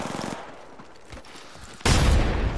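Automatic gunfire in the video game Apex Legends, a rapid burst of shots at the start, then quieter in-game sounds and a loud sustained blast near the end.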